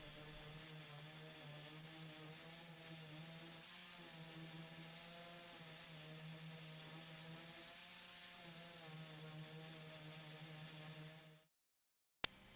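An electric sander works a walnut board clamped in a holding form, giving a steady, close motor drone with a rough sanding hiss for about eleven seconds before it cuts off into silence.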